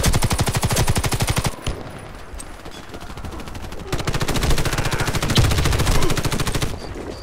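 Rapid automatic machine gun fire in the Warface shooter game comes in long, loud bursts, with a brief lull in the middle before the firing resumes.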